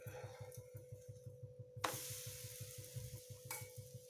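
A banana-and-egg pancake fries in oil in a pan, giving a steady close sizzle with a low pulsing hum underneath. Two sudden louder bursts of crackling flare up partway through.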